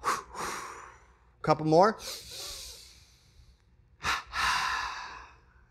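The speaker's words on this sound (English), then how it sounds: "Take the arms out nice and wide, big ones. It's sniff, sniff. Exhale, ha, ha. Sniff, sniff. Ha, ha." In a yoga breathing exercise, a person takes quick double sniffing inhales, then gives forceful huffing exhales in two bursts, close to the microphone, and a voice briefly speaks.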